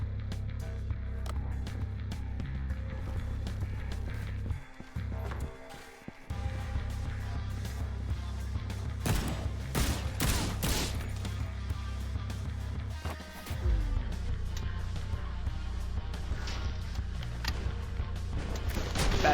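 Gunfire in the action game Suit for Hire: scattered sharp shots and bursts crack over a low rumbling game background, several clustered around the middle, with brief drops in the ambience between them.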